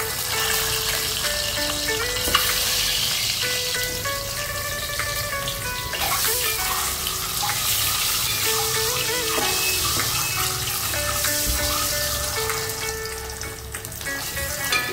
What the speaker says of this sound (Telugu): ఎగ్స్ని ఆయిల్లో ఇలా వేపుకోవాలి.